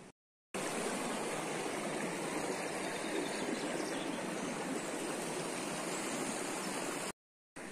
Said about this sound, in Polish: No jak widać, wszedłem trochę do rzeki